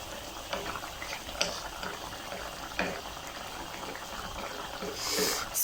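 Lamb karahi simmers uncovered in a pot, a soft continuous bubbling and sizzling with occasional louder pops and clinks, close and steady throughout.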